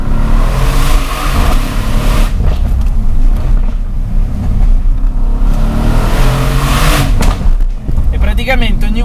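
A Mercedes C63S AMG with a 510 hp engine revs loudly nearby, its deep roar surging and falling in bursts, while someone talks over it.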